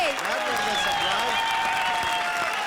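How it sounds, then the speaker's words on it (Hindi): Studio audience applause for a comedy duo on a TV comedy show, a steady wash of clapping lasting the whole stretch, with tonal music or a presenter's voice riding on top. "जोरदार तालियां विनोद और राजवीर के लिए।"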